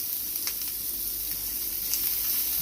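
Jalapeno peppers sauteing in oil in a pan on a stovetop over medium heat, giving a steady close sizzle with faint crackles and brief brighter spits throughout, no voices.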